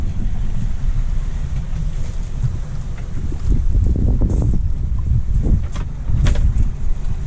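A sailboat running downwind on the open Pacific between the Marquesas and Tuamotus, with steady gusting wind buffeting the microphone and waves sloshing and washing against the hull in uneven surges.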